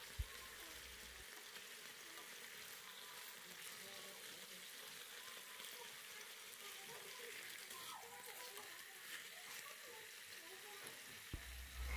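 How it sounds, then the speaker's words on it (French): Food simmering in a pan over high heat, seasoned with salt, giving a faint continuous fizzing sizzle that holds steady throughout, with soft speech faintly present. "je les laisse mijoter des deux côtés, toujours sur feu élevé"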